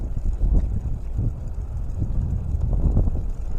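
Gusty wind buffets the microphone outdoors at a lake while fishing, a low rumbling roar that swells and eases steadily throughout, loud and close with no other clear sounds.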